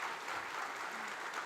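Faint, steady audience applause at a church gathering, a continuous even wash of clapping with no voices on top.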